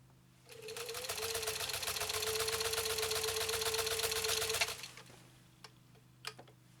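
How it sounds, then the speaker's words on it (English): A Singer 15-91 sewing machine stitches through leather in one continuous run of rapid, even mechanical ticking for about four seconds, then stops, leaving only a few faint clicks and taps. "How is he going to do the second round with stitching down the middle?"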